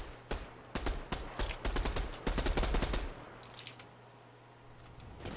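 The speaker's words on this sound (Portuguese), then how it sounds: "Alguém me vendo, porque estão me dando tiro." Rapid bursts of automatic gunfire in a Fortnite match crackle in quick clusters for about three seconds, then fade to quieter distant shots.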